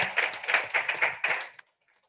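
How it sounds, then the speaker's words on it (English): An audience at an innovation centre event claps in a short burst of applause after a team's presentation, fairly close and even in rhythm, stopping abruptly after about a second and a half. "A round of applause for their presentation"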